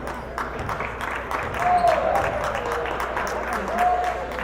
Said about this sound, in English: Still cheering though.